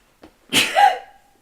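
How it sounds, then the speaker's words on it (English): A single close sneeze with a brief quiet intake of breath before the sharp burst, then silence. "I've got to sneeze"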